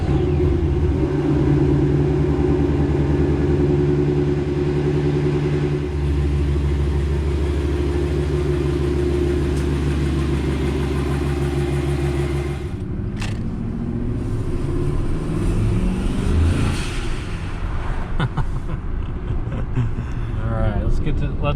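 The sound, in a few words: Ford F150 turbo truck engine revving while driving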